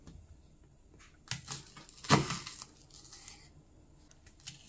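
A knife chops a quarter onion into large cubes, giving a few quiet, sharp taps and crisp cutting crackles spaced irregularly, with one louder cut in the middle.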